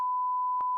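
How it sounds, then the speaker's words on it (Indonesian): A steady electronic beep holds one pure tone throughout, with small clicks at its start and end. "Bip lagi"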